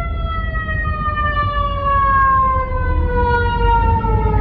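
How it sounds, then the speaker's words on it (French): Ambulance sirens wail loudly and steadily nearby, their pitch sliding slowly downward as they pass over a low rumble of traffic. "Il y a beaucoup des ambulances ici."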